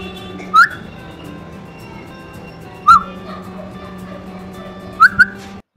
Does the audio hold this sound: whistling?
yes